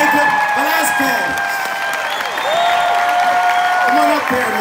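Concert audience applauding and cheering to welcome a guest musician to the stage, a dense steady wash of clapping with whoops over it and an announcer speaking above the crowd.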